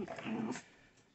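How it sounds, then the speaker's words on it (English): Several dogs roughhousing in a home, with a burst of low growls, whimpers and yips up close that fades to quiet after about half a second. "You guys can probably hear my dogs roughhousing in the background."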